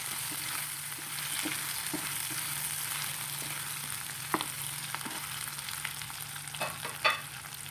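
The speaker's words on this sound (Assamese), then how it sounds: "এতিয়া মাংসখিনি ভাজা হৈ গ'ল।" Chicken meat frying in a pan for a traditional Bodo dish with kenaf leaves, a steady close sizzle with occasional clicks and stirring scrapes, no talking.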